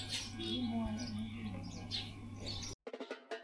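Birds call and chirp outdoors around a breakfast table in Ooty, their bright, repeated notes sitting over a steady low background hum and murmur before a brief silence near the end.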